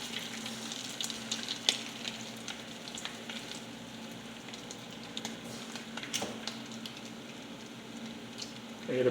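Homemade chicken nuggets shallow-frying in a pan of oil give a steady, close crackling sizzle with small pops and a few stir clinks throughout, no talk over it.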